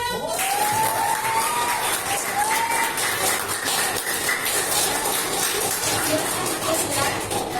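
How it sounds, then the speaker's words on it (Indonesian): Sustained applause with cheering and whistles fills a university Pancasila presentation event, loud and steady throughout, with voices mixed into the crowd noise. "Tepuk tangan."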